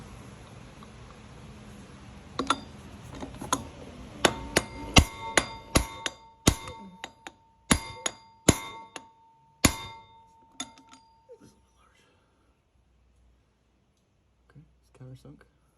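A hammer taps a part into the crankshaft during a Tremec TKX transmission installation, a string of sharp metallic clinks at an uneven pace, close and distinct, over a faint hum before fading to near silence.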